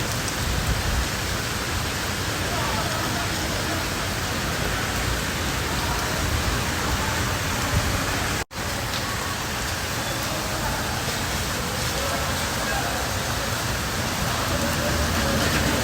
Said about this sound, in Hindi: बारिश की आवाज़ सुनिए